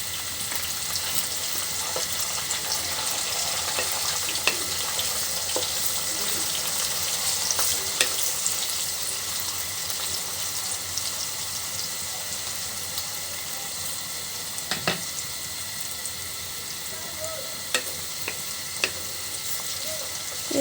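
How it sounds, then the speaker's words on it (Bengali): Chopped onion frying in hot oil in a pan with whole cumin seeds and bay leaf, a steady dense sizzle running throughout with occasional faint clinks of stirring, no voices. "পেঁয়াজটা আর একটু ভাজি করে নেব।"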